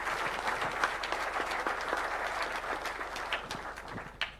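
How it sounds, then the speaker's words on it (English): Steady audience applause for a panel at a national address event in Kilifi, Kenya, fairly distant and even, with scattered individual claps above the mass. "let's put our hands together for a round of applause"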